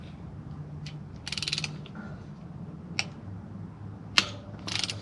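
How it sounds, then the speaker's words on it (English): A torque wrench is used on the brake bolts of a Lectric e-bike, giving quiet ratcheting clicks in short bursts and a few sharp snaps, close and faint over a low background hum. "Let me put my torque wrench and see if I can figure out how much torque is on it."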